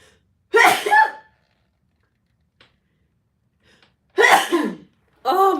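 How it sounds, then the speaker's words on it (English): A woman sneezes while doing her lashes, one sharp close sneeze near the start and another loud burst about four seconds later, with quiet gaps between. "Why is it that every time you're doing your lashes, you sneeze?"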